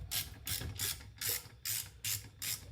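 Ratchet wrench clicking in seven quick bursts as it undoes 8mm bolts on a Hitachi air compressor from a Range Rover L322, each burst a bright metallic rattle with a low background hum, close and fairly quiet, no talking.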